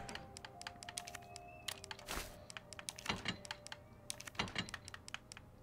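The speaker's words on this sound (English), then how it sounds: "Typewriter. It's always important to save just in case." Typewriter keys clacking at a save point in Resident Evil 3, a quick irregular run of sharp close strikes with a few heavier thunks, fairly faint overall.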